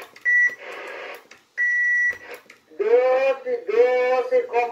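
A Cobra 19DX IV CB radio sounds two short, steady electronic beep tones, each followed by a burst of radio noise. A buzzy, tonal warble from the set follows, close and clear.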